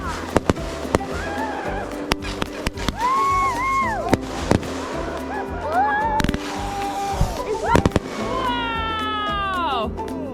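A backyard New Year's Eve fireworks show in freezing Alaska weather sets off scattered sharp bangs and pops, with rising whistling tones, as people talk and call out nearby.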